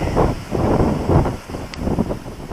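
Strong wind gusts outdoors by a river, buffeting the microphone in loud, rushing surges that rise and fall, with no talking.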